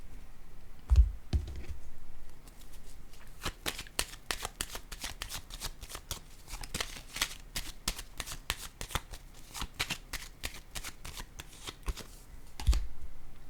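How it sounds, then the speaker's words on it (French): Tarot cards are shuffled and handled, a dense run of quick papery riffling snaps with a couple of soft thumps as cards are set down on a table. "je vais déposer une carte sur celle-ci."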